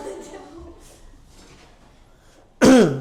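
A single sharp, loud cough bursts out near the end, following a stretch of quiet room tone and faint murmuring, close to the microphone in a classroom setting.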